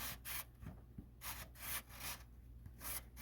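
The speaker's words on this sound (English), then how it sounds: "I'm just trying to lightly scuff up that surface a little bit." Sandpaper scuffing the surface of a Suzuki Bandit 1200 clutch plate, a close, quiet rasping rub in quick repeated back-and-forth strokes about twice a second.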